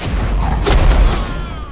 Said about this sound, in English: So let's go for a fire breath.